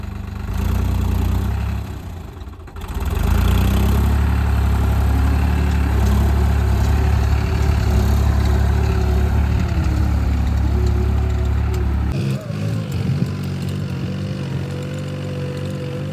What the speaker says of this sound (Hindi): मेरे उतरते ही ना ट्रैक्टर चढ़ने लग गया